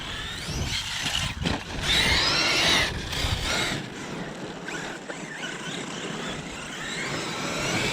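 Motor whine from an HPI Savage XL RC monster truck, loud and close at first with a rising burst of revving, then settling into a steadier, slightly quieter hum with rough texture.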